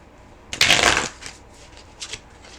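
A quick riffle of tarot cards being shuffled, a crisp burst of flapping, followed by a couple of softer taps as the deck settles.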